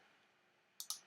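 Two quick, sharp computer mouse clicks land close together near the end, crisp and close after a faint quiet stretch.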